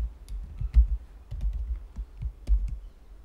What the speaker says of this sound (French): Je tape canton